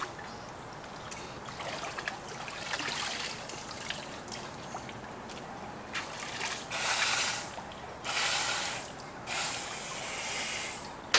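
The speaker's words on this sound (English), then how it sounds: "See how the water comes through the purge valve?" Water gurgles and rushes through a scuba mask purge valve in irregular bursts, the flow swelling louder toward the end, with a steady watery hiss underneath and no talking.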